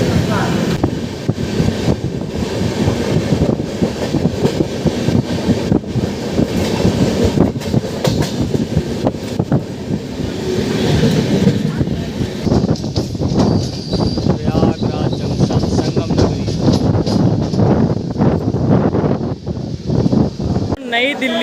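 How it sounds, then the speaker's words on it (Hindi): The Purushottam Express rumbles along the rails, a loud, continuous clatter of wheels and carriage noise heard from on board, with rhythmic clicks and a voice speaking over it. "दोस्तों अपनी ट्रेन सूबेदारगंज को स्किप कर रही है"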